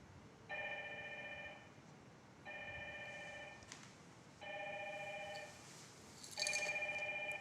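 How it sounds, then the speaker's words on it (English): A telephone on a Dinstar IP PBX system rings in four evenly spaced electronic bursts, each about a second long, with quiet pauses between them; no one speaks. "You see here ringing already."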